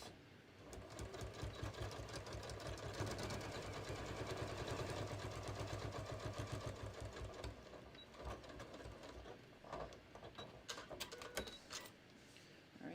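A home sewing machine quilts the tops of beach tote bag panels at a 4.0 stitch length, running in a steady fast rattle for several seconds, then slowing into short bursts near the end.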